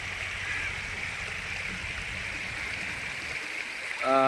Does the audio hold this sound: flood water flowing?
yes